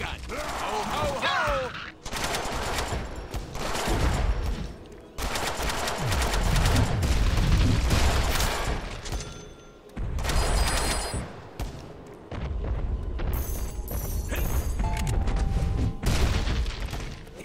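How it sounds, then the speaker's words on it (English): Machine gun fire in the Deadpool video game, loud sustained bursts with booms and mechanical clatter, broken by short gaps, with game sounds mixed in. "Now I have a machine gun."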